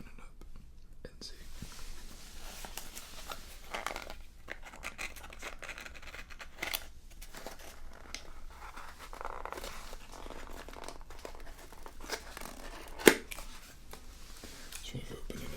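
Plastic wrapping on a Mancera fragrance tester bottle crinkles and tears in soft bursts as it is unwrapped and pried open, close and quiet beneath continuous whispering.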